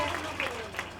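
Applause from an audience for a group of girls at a health and wellness centre event, a steady soft patter of clapping lasting about a second at moderate distance.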